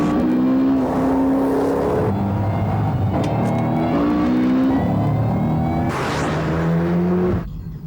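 A car engine revs hard and accelerates close by, its pitch climbing through repeated gear changes before cutting off abruptly at the end, with no talk over it.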